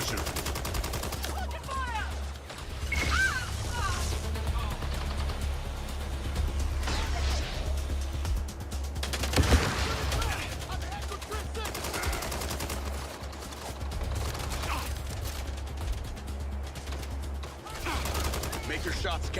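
Sustained video game gunfire rattles throughout a shooter stream, with dense volleys and repeated shots over a low engine-like drone and one sharper, louder burst midway, while a voice talks intermittently.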